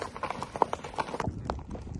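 Horse hooves clip-clop in a quick steady rhythm as horses are ridden outdoors on a warm overcast day, moderately close with faint background noise.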